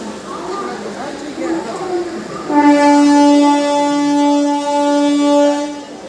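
A Dankuni-Sealdah local train at Dankuni Junction sounds a long, loud horn blast with a few pulses after a stretch of platform bustle and voices, with talk beneath.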